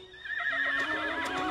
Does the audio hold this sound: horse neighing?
yes